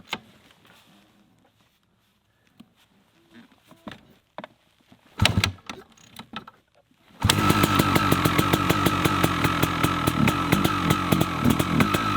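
A KTM 380 SX two-stroke dirt bike starts up after some faint clunks and rattles, then runs loud and close with a raspy, rapidly pulsing engine note that holds steady.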